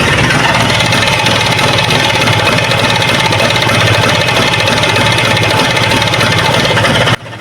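A Vespa Excel scooter's two-stroke engine runs steadily after starting, a loud, continuous idling drone with a buzzing mid-range tone that holds evenly throughout, close up, with no talking.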